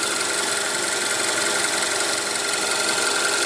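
A 2015 Kia Soul's 4-cylinder engine runs paired with a 6-speed automatic, giving a steady, even hum with a light rattling texture throughout, heard near and alone without voices.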